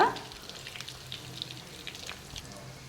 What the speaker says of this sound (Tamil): இப்போது இது நல்லா ஃப்ரை ஆகிடுச்சு